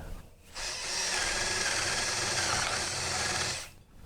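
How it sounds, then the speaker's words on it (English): A power drill drives a bolt into deck framing to countersink it, running loud and steady for about three seconds with no talk. "You can actually suck that bolt in pretty good, but I'm just going to start it so it's kind of countersunk."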